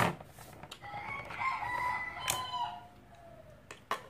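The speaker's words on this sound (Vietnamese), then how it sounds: "Mình gà gáy ghê quá." A rooster gives one long, loud crow near the microphone in the early morning before dawn, the call rising then trailing off, with a few sharp knocks and clicks around it.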